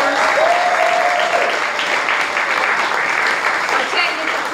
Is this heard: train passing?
no